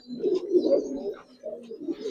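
Giribaz and Army pigeons coo close by in a low, rolling burble, two drawn-out bouts separated by a short pause, with no voices.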